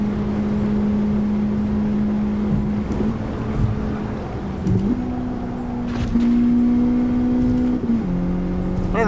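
Race car engine in the Gran Turismo video game, a steady sustained drone that holds one pitch and then steps up through gear changes, loud and continuous with no talk.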